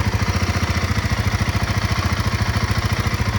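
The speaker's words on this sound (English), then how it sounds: "This is a brand new engine." A freshly rebuilt Royal Enfield Himalayan 450 motorcycle engine idles close by, a fast even putter of firing pulses, steady and fairly quiet throughout.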